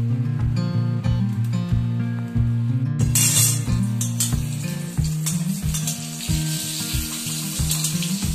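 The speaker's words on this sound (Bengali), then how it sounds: "এই যে আলু আর ঢেঁড়স ভাজা হবে" Potato and okra fry in a pan, a steady sizzle running the whole time with occasional utensil clinks, partly masked by loud rhythmic background music.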